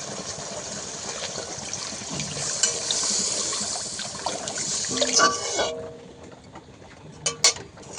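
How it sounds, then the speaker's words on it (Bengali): Water is poured into a pan of hilsa fish curry masala, a close gushing splash and hiss that runs for several seconds, then stops, leaving a few clinks of the pan. "এই পর্যায়ে পরিমাণ মতো জল দিয়ে দেবো।"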